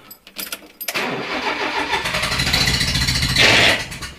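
A vehicle engine cranks and fires up with the pedal pressed fully down, then revs steadily and loudly close by, rising to a higher pitch near the end before easing off.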